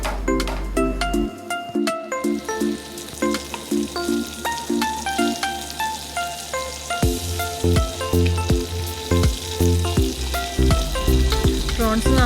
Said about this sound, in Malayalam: ഇനി ഇതിനെ തിരിച്ചിട്ടൊന്ന് ഫ്രൈ ചെയ്തെടുക്കാം